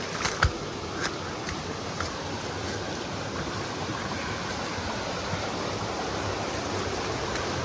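Water from the mountain flows down a rocky stream near Anguthi Sunai, a steady broadband rush with a few faint knocks early on and no voices.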